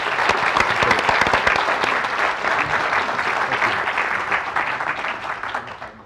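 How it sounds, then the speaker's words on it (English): Sustained applause from a conference audience for a panel at a CEO business climate summit, dense and steady throughout, tapering slightly at the end. "A round of applause for our panel."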